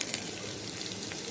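A half bay leaf sizzles in hot oil already flavored with cumin, a steady hissing fry that stays even and continuous with no voices over it.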